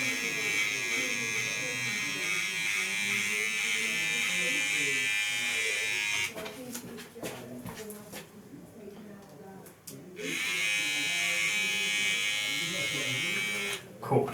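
Electric hair clippers shave the top of a man's head during a hair system fitting, giving a close, steady buzz that cuts out for a few seconds midway and then resumes, with faint voices around it.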